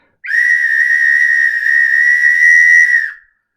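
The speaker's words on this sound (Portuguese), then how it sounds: "Eu tenho um apito," A single sharp whistle blast, steady and shrill, held for about three seconds before cutting off, loud and close.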